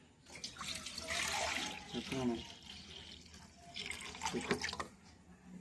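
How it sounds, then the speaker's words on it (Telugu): Lemon juice poured over eggs until they are submerged, with a watery trickle and splash coming in two bursts, fairly close, over a background murmur. "ఈ విధంగా గుడ్లు మునిగే వరకు నిమ్మరసం పోసుకోవాలండి"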